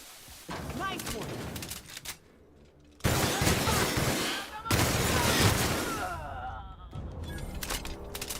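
Gunfire in the video game The Outer Worlds comes in loud, dense bursts separated by short quiet gaps, with a sustained roar of shots and game effects filling most of the stretch.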